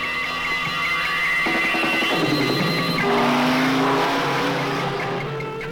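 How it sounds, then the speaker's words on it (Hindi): A motorcycle drives off from a 1979 Hindi film scene, its engine roaring and revving loudly and steadily under a dense wash of background score, with no talking. "देख, मैं तेरी मोटरसाइकिल लेके जा रहा हूँ।"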